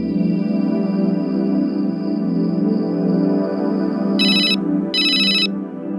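A phone rings with a sustained warbling tone, then two bright buzzing ring bursts cut in near the end, loud and close.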